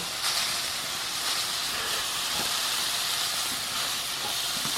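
Food frying in extra virgin olive oil in a frying pan gives a steady, even hiss and sizzle that runs the whole time, close and moderately loud, with no talking.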